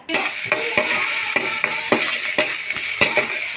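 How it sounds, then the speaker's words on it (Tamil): Onion, garlic, dried red chillies and tomatoes sauté in hot oil in a pan, giving a steady close sizzle broken by repeated scrapes and clinks of a stirring spoon. No one speaks. "இப்போது வானல் வச்சு எண்ணெய் ஊற்றி நல்லா வதக்கிக்குவோம்"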